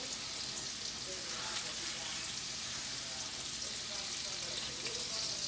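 Redfish fillets pan-fry with a dense, steady hiss of hot oil that fills the whole stretch evenly at moderate volume, with no other distinct sounds.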